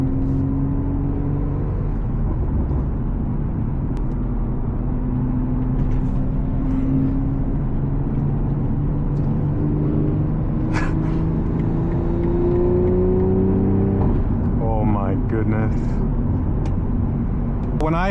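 A BMW M340i running an MHD Stage 2 tune cruises on a highway, its engine droning steadily with rising pitch as it accelerates, plus a brief revving surge near the end, all under continuous road and wind noise.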